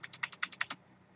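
Typing code on a computer keyboard: eight quick, crisp keystrokes close up in a fast even rhythm, then silence.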